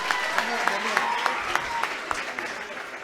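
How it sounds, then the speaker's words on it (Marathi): A crowd claps for a portrait artist at a teacher's retirement felicitation ceremony. The applause is moderately loud, with brisk rhythmic claps repeating over a steady wash of hands and a faint voice underneath. "एकदा त्यांच्यासाठी जोरदार टाळ्या होऊ द्या."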